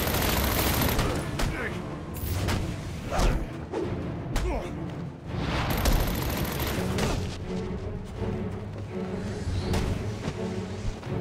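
Video game combat in Batman Arkham Origins on PC, with a grenade blast and repeated gunfire bursts, thuds and whooshes over continuous game sound, loud and close, with voices shouting amid the fight.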